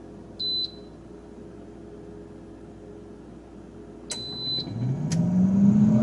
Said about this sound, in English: we're gonna go ahead and put this in the air fryer at 360 for 7 minutes